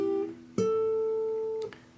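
An electric guitar plays a short lick from a song, a few clean sustained notes with one held long, close and clear with no talking.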